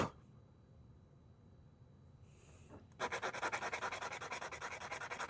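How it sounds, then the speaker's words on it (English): Sandpaper rubs away a stray thread on a part of a throttle lever build, starting after a quiet stretch as a close, rhythmic rasping scrub of quick repeated strokes. "Let's take some sandpaper. Just get rid of it."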